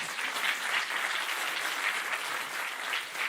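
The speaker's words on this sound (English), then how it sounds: "we can clap" A church congregation claps together in a steady, dense burst of applause that holds at an even level throughout, with no voices standing out.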